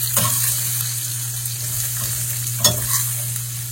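Brinjal curry sautéing in a pan with sambar powder, a steady sizzle running throughout with occasional scraping stirs, one sharper clatter near the end, no talking.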